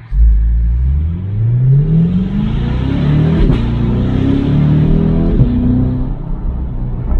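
With the top down, a Chevrolet Corvette C8 Stingray's engine revs up through rising gears, pulling strongly and loudly with a deep rumble and a brief shift break, and no one talks over it.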